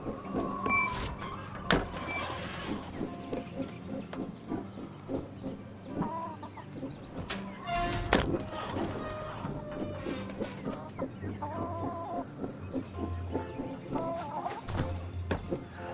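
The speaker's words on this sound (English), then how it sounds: "I don't think those chickens would be comfortable sitting all the way up there." Chickens clucking around a coop: scattered clucks and short calls repeat throughout at moderate volume, with occasional knocks and clatter nearby and no talking.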